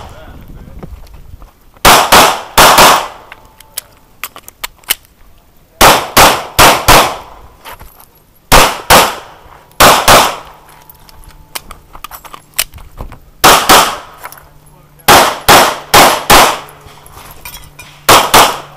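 HK VP9 pistol fired on a USPSA shooting stage, loud close bursts of rapid shots in about six strings of three to five, separated by short pauses with faint background noise.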